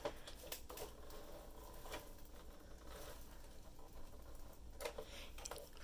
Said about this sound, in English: And then you just hand crank it here.